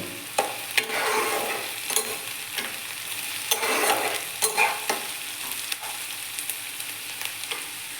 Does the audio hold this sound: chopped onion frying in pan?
yes